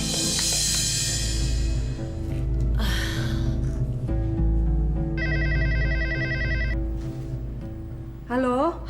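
A telephone rings indoors in a drama scene, with a bright repeating electronic ring pattern sounding for a few seconds amid music and background sound, and a short warbling tone near the end.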